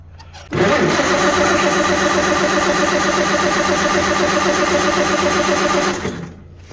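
A tractor engine in snow cranks briefly, then catches and runs at a fast, even mid-pitched rattle for about five seconds before cutting out, close and loud with no talk.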